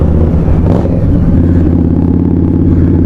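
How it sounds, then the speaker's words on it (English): An Indian Scout Bobber motorcycle rides loudly through a small village, its engine giving a steady, throaty rumble that swells briefly with a rev, close and continuous with no talk. "Probably pisses half the locals off though when you hear this bloody loud bike coming through there, the little village."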